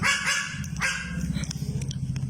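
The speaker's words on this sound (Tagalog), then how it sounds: "Mas matahol pa sa ibang aso." A dog barks in a quick run of sharp yips near the start, followed by a rough low growling rumble that continues to the end, close and fairly loud, with no talking.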